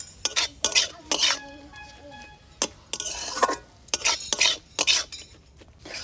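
A spoon stirs a cabbage filling with peanuts and garam masala in a pan, with repeated scraping and clinking bursts against the metal in an uneven rhythm and a faint sizzle between strokes.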